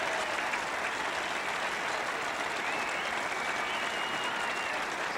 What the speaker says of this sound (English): More than applause, in fact, a cheer